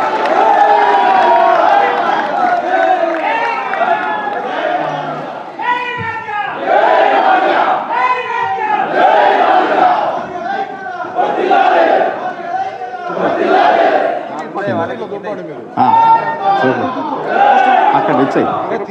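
A crowd at a Telangana Madiga community conference cheers and shouts together in support of a resolution, loud rhythmic chanting and yelling from many voices that carries on for nearly twenty seconds with brief pauses.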